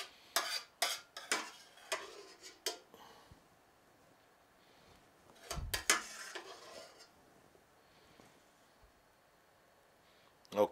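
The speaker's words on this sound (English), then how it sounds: "Just scoop all of this up." A spoon scrapes and scoops sausage and sauce from a pan in a kitchen, making a quick run of clattering scrapes, then a pause and a few more scoops, with a voice nearby.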